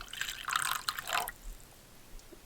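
Water trickles and splashes briefly into the tank of a Smile Direct Club ultrasonic UV cleaning machine, a close, light pouring sound in the first half that fades to quiet.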